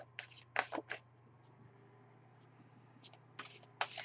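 Tarot cards are shuffled by hand in a quiet room, giving short crisp riffling bursts in a few separate clusters, close and soft, with stillness between them.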